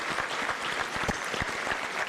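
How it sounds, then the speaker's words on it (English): Sustained applause from a conference audience for a panel, dense clapping at an even level throughout. "a hand of applause for our panelists"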